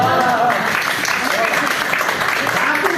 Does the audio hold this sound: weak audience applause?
yes